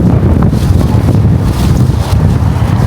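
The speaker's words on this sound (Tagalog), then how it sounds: "Ang hangin." Strong wind buffets an open microphone outdoors, a loud continuous low rumble with gusty fluctuations and no clear speech.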